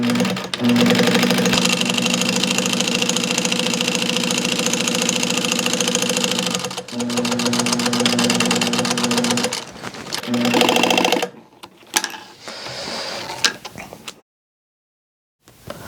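An industrial sewing machine runs loud and steady, stitching 4-inch Cordura fabric into 1-inch PALS webbing. A long continuous run breaks off briefly, resumes, then turns into short stop-start bursts before it goes quiet.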